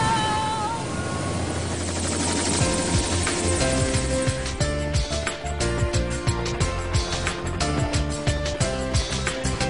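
A helicopter flying over Los Angeles: loud, close rotor chop with a rhythmic low beat under steady engine whine, continuous throughout, with no voices.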